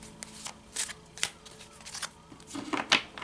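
Tarot cards being shuffled by hand, a series of soft papery riffles and slaps in irregular bursts, close and fairly quiet, with no voices.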